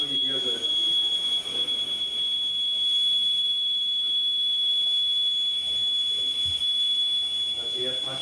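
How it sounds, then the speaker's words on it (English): A steady high-pitched breathing apparatus warning whistle runs continuously over a dense hiss of rushing air, loud and unbroken throughout. "that's the air passing up through into the whistle, back into the diabator"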